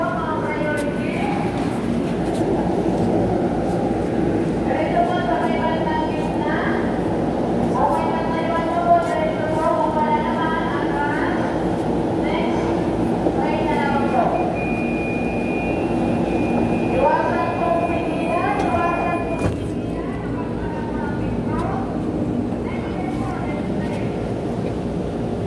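Steady rumble of a train interior with rolling mechanical noise throughout, overlaid by a crowd of passengers talking in Filipino and a brief high-pitched tone near the middle.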